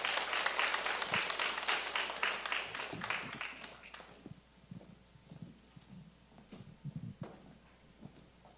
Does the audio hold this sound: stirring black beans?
no